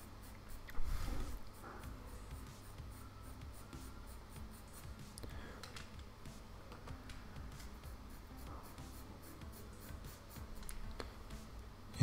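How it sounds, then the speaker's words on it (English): A red pastel pencil strokes delicately across paper in a steady, soft scratching rhythm, close but quiet, with scattered light ticks and taps over twelve seconds. "I cannot emphasize enough the degree of delicacy in which I am touching the paper with this"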